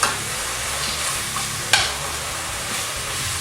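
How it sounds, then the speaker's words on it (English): Sausage and spinach sauteing in a pan for a lasagna filling, a steady close sizzle with stirring scrapes and one sharp clink midway, no voices. "Once you get them sauteed, you're going to have about half the amount that you started with once it's cooked."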